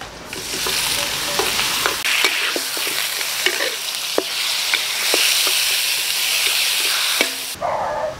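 Beef stir-fried in a pan makes a loud, steady sizzle right up close, broken by repeated clacks and scrapes of a utensil being stirred, before it abruptly quiets at the end.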